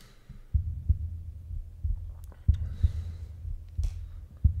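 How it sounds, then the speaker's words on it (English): Heartbeat sounds opening a track from an album, a slow series of deep, muffled double thumps repeating at a steady pace over a low hum, with no talking. "Start with some heartbeats."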